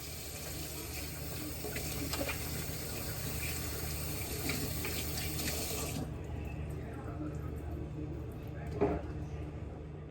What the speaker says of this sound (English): the first thing we're going to do is wash our hands to be sanitary